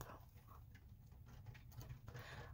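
Soft, steady patter of rain drumming on a glass skylight overhead, a continuous close hiss with scattered light taps and no talking.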